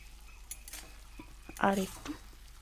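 Leafy greens being stirred in a pan midway through cooking, a few soft scrapes and a brief clatter of utensil against metal over a faint background sizzle, quiet and close.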